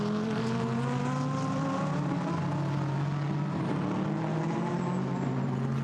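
GT race cars, a Ferrari and a Mercedes, race at Monza in the 2019 Blancpain GT Sports Club: a steady, loud, layered engine drone with high-revving harmonic whine sustained throughout.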